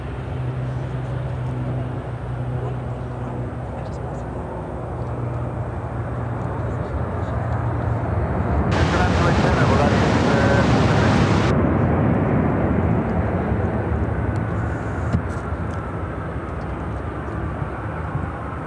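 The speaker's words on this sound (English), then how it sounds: "flight coming in from Munich on this A350-900." Airbus A350-900 airliner arriving from Munich at Chicago O'Hare, a steady broad jet roar that swells louder mid-pass amid continuous airport background noise.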